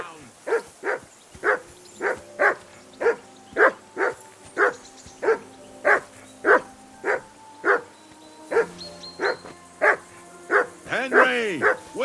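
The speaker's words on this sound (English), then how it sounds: "Whistle at that mutt of yours to stop barking." A dog in Kingdom Come Deliverance II barks steadily, about fifteen evenly spaced loud barks close by, ending in a higher whine, with a voice speaking partway through.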